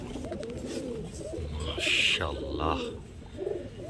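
Pigeons coo steadily in a loft of fancy breeds offered for sale, soft rolling coos and a few chirps filling the clip while someone speaks briefly over them.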